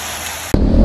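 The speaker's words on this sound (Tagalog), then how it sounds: "Biglang lumakas ang ulan." Sudden heavy rain hitting a rider on a Benelli TRK 502X adventure motorcycle during a road tour, an abrupt jump from steady wind hiss to a loud, dense roar of pouring water close to the microphone.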